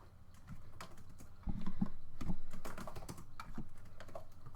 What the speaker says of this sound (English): Yep, typing.